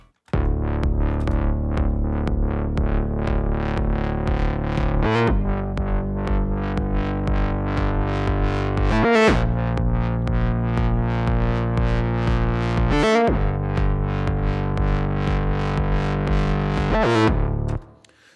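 A melodic techno drum loop with a steady four-on-the-floor kick, dense rhythmic percussion and layered effects-heavy texture, looping continuously and loud with brief drops around each bar turnaround.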